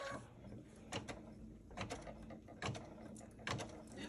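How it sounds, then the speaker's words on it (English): Home sewing machine running a tacking stitch while piecing a quilted pillow block, with short bursts of fast mechanical whirring and clicking, each burst a fraction of a second and repeated several times at close range. "It's going to stitch the tacking stitch now."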